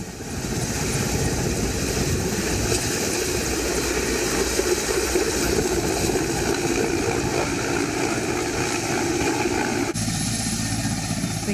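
A helicopter runs through a rescue flight after an encounter in Bijapur, its steady loud engine and rotor roar constant throughout, with a brief shift in tone near the end.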